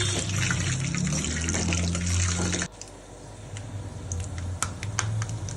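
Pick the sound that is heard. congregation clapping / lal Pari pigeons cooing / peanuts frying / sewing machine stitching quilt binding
peanuts frying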